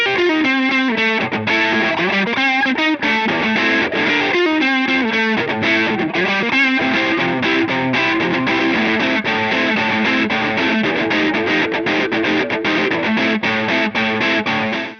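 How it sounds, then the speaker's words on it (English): Electric guitar run through stacked Keeley Muse Driver and Noble Screamer overdrive pedals, modded Boss and Ibanez circuits, producing a loud, continuous, saturated driven riff with steady rhythmic chord changes and no talking. "I was actually using both the Muse driver and the Noble Screamer from Keeley"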